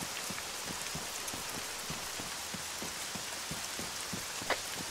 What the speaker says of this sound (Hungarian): nem terveztem, hogy esni fog, szakadni fog az eső